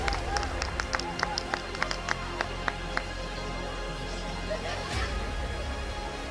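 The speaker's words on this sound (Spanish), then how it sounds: "Fuerte el aplauso a la mejor escaladora del día" A crowd applauds the mountain classification winner at a women's cycling race awards ceremony in Estella: scattered, fairly faint clapping over a steady background murmur and a voice on the loudspeaker.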